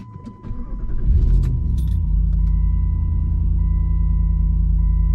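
Keys jangle briefly, then a Jeep Commander XK engine cranks and catches, settling into a steady, close idle rumble.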